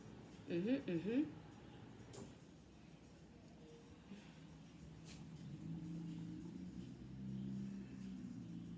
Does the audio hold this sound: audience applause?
no